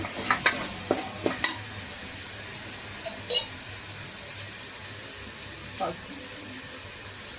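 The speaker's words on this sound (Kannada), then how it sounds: "ಒಂದು ಟೊಮ್ಯಾಟೊ ಅಷ್ಟು ಟೊಮ್ಯಾಟೊನ ಕಟ್ ಮಾಡಿ ಹಾಕ್ಕೊಳ್ತಿದ್ದೀನಿ. ಇದನ್ನು ಕೂಡ ಅಷ್ಟೇ ಚೆನ್ನಾಗಿ ಫ್ರೈ ಮಾಡ್ಕೋಬೇಕು." Chopped tomato frying in a pan, a soft steady sizzle throughout with a few stirring scrapes and clinks near the start and occasional utensil taps.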